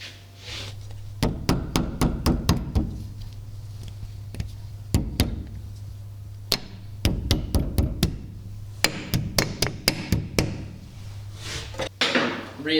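Repeated sharp taps as a dust cap is knocked back onto a golf cart front wheel hub during a lift kit install, coming in quick bursts of several hits separated by short pauses over a steady low hum.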